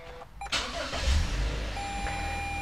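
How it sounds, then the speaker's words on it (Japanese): A new wagon GL van's engine starts with a short crank that catches into a steady idle, close and fairly loud, with a few faint electronic beeps inside the cabin. "エンジンかけていきます"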